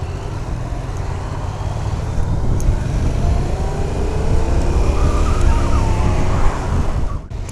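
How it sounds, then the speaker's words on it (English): A 2016 Yamaha FZ-07 motorcycle drones steadily while riding, with engine and wind noise holding loud and constant throughout, close to the rider and with no speech. "I'm on the 2016 FZ-07, one of our favorite bikes Yamaha produces right now"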